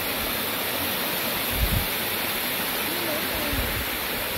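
A mountain valley stream swollen by heavy rain rushes in a loud, steady roar near Unmunsa temple's Naewonam hermitage, with faint talk underneath.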